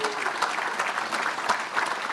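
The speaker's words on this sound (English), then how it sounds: "could I get a round of applause for the final" A conference audience at a tobacco harm reduction event applauds, a dense patter of many hands clapping at steady volume across the room, with a few sharper claps standing out.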